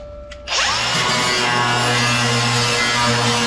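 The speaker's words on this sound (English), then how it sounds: "get the grinder and grind that down just a little so I can tack weld it in" An angle grinder spins up after a brief quiet moment and grinds steadily on metal on the bed of a 1953 Chevy 3100 pickup during an S10 frame swap, loud and continuous up close.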